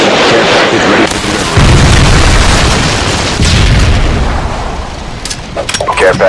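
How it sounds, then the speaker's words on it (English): A Predator missile explosion in Modern Warfare 2 lands as a loud, heavy boom with a rumbling tail that fades out, followed by scattered sharp pops, and a voice speaks near the start. "Friendly Predator missile incoming."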